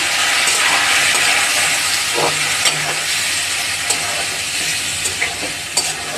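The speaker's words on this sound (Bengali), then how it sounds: "ভাজা ভাজা করছি।" Pieces of fish frying in a pan, a continuous loud sizzle with occasional crackles and spatters, steady and close, with no voices.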